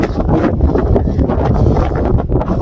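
Strong gusting wind on the summit of Mt Timbak, the third-highest mountain in Luzon, buffets the microphone in a steady loud roar with no voices.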